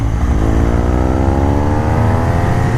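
A light naked motorcycle engine runs loud and close, its steady rising drone sustained throughout with no voices.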